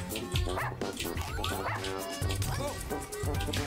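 Dogs in the video game Russian Subway Dogs bark and yip in quick bursts over game music, close and loud, while people talk over the action.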